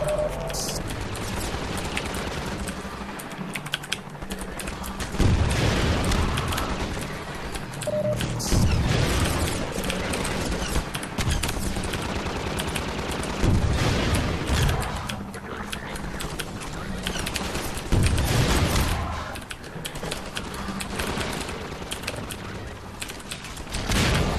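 Gunfire in Half-Life 2 while shooting down gunships: repeated bursts of shots and booming hits over a constant dense wash of game noise, with someone talking intermittently.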